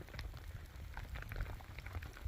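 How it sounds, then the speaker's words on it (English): Heavy rain pattering on a fishing bivvy at a carp lake, a dense, uneven tapping of drops, fairly faint and steady throughout. "it's chucking it down with rain"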